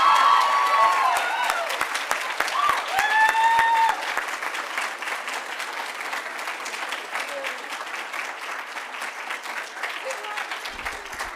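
An auditorium audience at an oratorical contest applauds for the participants, sustained dense clapping with some cheers and voices mixed in, loud at first and then easing slightly while continuing steadily.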